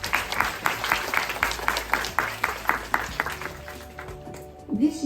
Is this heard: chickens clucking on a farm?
no